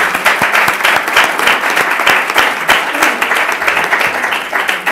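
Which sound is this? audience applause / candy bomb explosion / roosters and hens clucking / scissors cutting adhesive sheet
audience applause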